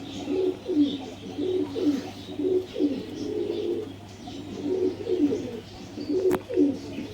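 Punjabi Malbai pigeons cooing in repeated soft, throaty rolling phrases, close by and alone, with one brief sharp click near the end.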